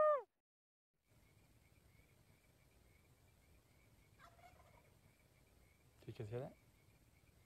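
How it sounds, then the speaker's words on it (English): A wild gobbler turkey, roosted in a canyon, gobbles once at moderate distance, a short rattling burst standing out over steady insect hum and quiet outdoor ambience, with a fainter call a few seconds earlier. "it's gobbling right here"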